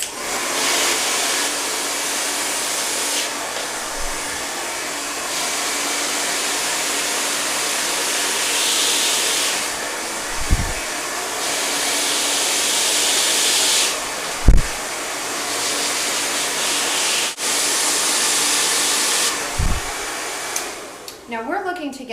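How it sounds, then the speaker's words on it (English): A hair dryer blows steadily while curly hair is blow-dried straight section by section, a loud continuous whoosh with its pitch shifting as the airflow changes and a few brief soft bumps near the end. "we're going to blow dry this all out"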